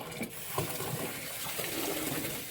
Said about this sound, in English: We're going to run the water over him so that we can get that nice magical lather.